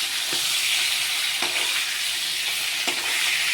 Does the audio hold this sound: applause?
no